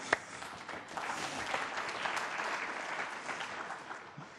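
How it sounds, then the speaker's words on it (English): Conference audience at the LAK 2012 learning analytics morning session gives a round of applause, steady rolling clapping from many people, moderately quiet and sustained before tapering off. "I think that's worth a round of applause."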